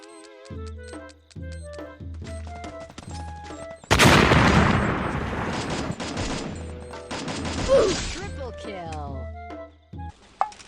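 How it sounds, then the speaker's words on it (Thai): A grenade blast in the Free Fire mobile battle-royale game erupts as a sudden loud broadband burst partway through, followed by several seconds of crackling debris and gunfire-like noise, between game sound effects and music tones. "ระเบิดลูกนี้เพื่อเธอ"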